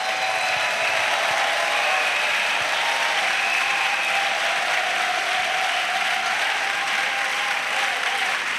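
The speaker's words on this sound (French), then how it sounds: "Clap offering to Jesus Christ." A church congregation claps as an offering to Jesus Christ, sustained, dense and even applause filling the room at a steady level throughout.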